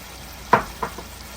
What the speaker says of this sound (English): Now is the time to cook your shrimp all the way through